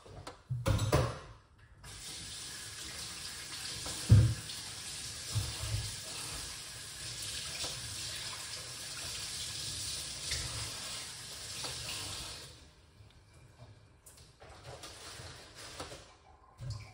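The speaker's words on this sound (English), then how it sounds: "Let's get these things washed off." Kitchen tap running as ingredients for a weight-loss drink are washed, a steady hiss of water lasting about ten seconds between handling knocks and clatter, fairly close, with no talking.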